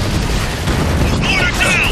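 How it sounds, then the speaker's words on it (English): An RPG shot destroying a mortar in the war video game Spec Ops: The Line, a loud, rumbling blast amid battle noise with a voice shouting over it. "Use that RPG to take it out!"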